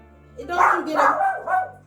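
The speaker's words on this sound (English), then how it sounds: "My mom's dog is upset about the blow dryer" Small dog barking and yipping in a quick run of three or four excited barks, close and loud, aimed at a hair blow dryer that hums steadily underneath.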